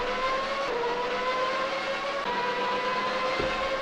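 A Formula One car's engine in a 1992 Austrian Grand Prix racing video game whines at a high steady pitch, stepping through gear shifts with brief drops, moderately loud and without speech.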